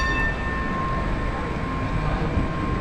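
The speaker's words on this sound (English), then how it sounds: "So here we go. Got some more trams." Tram rumbling along a Melbourne city street, a steady, continuous low roll with a faint high whine above it, close by and without talk throughout.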